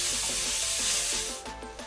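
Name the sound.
frying onions with ginger garlic paste in pan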